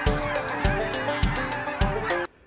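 Geese honking during a hunt, a loud, close series of rhythmic honks repeating about four times before cutting off abruptly.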